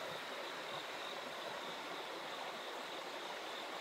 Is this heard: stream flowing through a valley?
yes